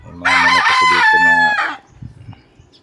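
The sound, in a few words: chickens crowing and clucking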